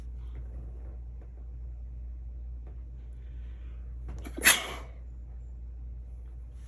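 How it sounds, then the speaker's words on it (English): One sudden sneeze stands out mid-clip over a steady low room rumble, close and loud against otherwise quiet background during a tarot card reading. "I'll take that as a confirmation sneeze, okay?"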